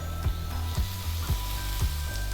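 Capsicum and garlic sizzle steadily in a hot pan during a stir-fry, with a soft rhythmic scrape from stirring roughly every half second and a constant frying hiss.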